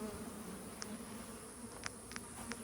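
A small swarm of honey bees buzzes in a steady, faint, continuous drone, with a few individual bees flying close past now and then.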